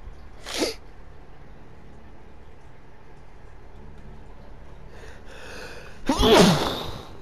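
A sharp sneeze bursts out near the start, then a long stretch of quiet room tone with faint rustling, followed by a louder, breathy second sneeze or gasp near the end.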